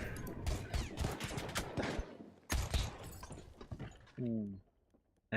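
Gunfire from an AK rifle and an auto revolver in a Frontlines tournament match, with rapid bursts and scattered shots in quick clusters, fairly close, plus a short tonal game sound near the end.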